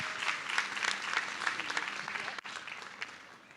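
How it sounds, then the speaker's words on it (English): Applause from an audience at an ecosystem-building gathering for resource providers, a steady wash of many hands clapping at moderate distance that tapers off toward the end. "So let's give a round of applause to Faye"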